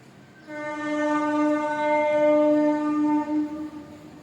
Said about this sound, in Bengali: স্টেশন থেকে ট্রেন বেরিয়ে যাচ্ছে